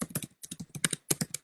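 Bursts of quick key clicks on a computer keyboard, close and crisp, arrive in three short flurries separated by brief gaps, with no voices.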